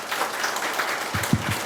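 Audience applause after a Korean lecture on Park Tae-joon continues throughout as steady clapping, with a few louder low thumps near the end.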